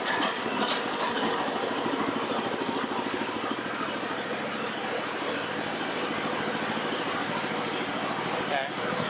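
A small engine runs loud and steady after being choked, a close, rattling idle that fills the clip from start to finish while a voice speaks over it.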